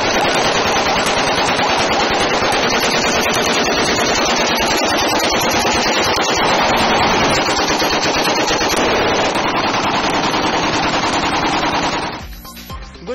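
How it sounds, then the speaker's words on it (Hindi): Aerial firing at a political arrival in Gujranwala, Pakistan, heard as a dense, continuous roar of rapid gunfire bursts that runs loud for about twelve seconds before cutting off abruptly. "गुजरांवाला में खुर्रम दस्तगीर की आमद पर हवाई फायरिंग करके कानून की धज्जियां उड़ाने वाले 10 मुलजिमों का 2 रोजा जिस्मानी रिमांड"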